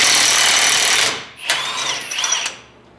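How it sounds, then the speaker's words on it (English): An impact tool spins off the axle nut on the front hub of a Dodge Ram 1500, first a loud sustained whir, then a few shorter high-pitched bursts as the nut comes free, close up in a workshop. "Now we're gonna get our axle nut off."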